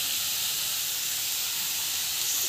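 Chili powder sizzles as it sautés in a hot pan, a steady broad hiss that continues close and unbroken throughout.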